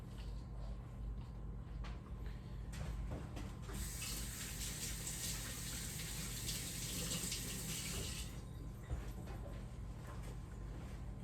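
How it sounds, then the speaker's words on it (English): Tap water runs steadily into a kitchen sink for hand washing, a constant hissing gush that swells louder midway and then eases, heard close and alone with no talking. "is wash my hands."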